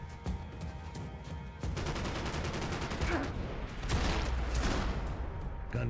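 Dense, continuous rapid gunfire in the video game Max Payne 3, with bursts of automatic shots, loud and sustained, rising in intensity toward the end.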